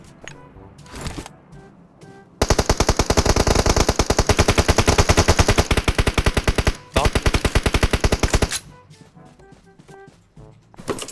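Heavy automatic gunfire from PUBG Mobile, a long loud burst of rapid shots with a brief pause midway, preceded and followed by quieter scattered game sounds, no talk.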